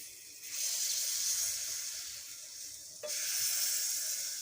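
Dudh chitoi pitha batter frying in a pan gives a steady, fairly loud broadband sizzle, with a sharp rise at about three seconds as fresh batter meets the hot surface. No one speaks.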